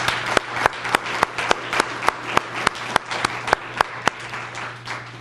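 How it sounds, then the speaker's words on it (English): Applause from the audience at a foundation reception, a crowd clapping steadily with several close, sharp, regularly spaced hand claps standing out above the softer wash of the room, with a low hum beneath. "Can we give her another round of applause?"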